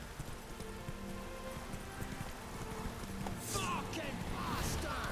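A horse gallops in The Witcher 3 video game, with a steady, close run of hoofbeats under game ambience and voices, and brighter splashing or jingling sounds toward the end.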